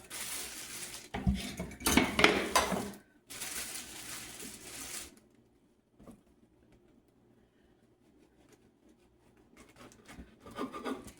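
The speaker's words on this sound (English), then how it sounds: "I'm going to cut my rolls" Knife cutting through soft slider rolls on a board, with bursts of rasping sawing and clattering of the pan, then a long near-quiet stretch and a few faint knocks and scrapes, with no voices.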